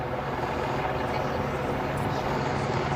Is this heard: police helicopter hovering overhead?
yes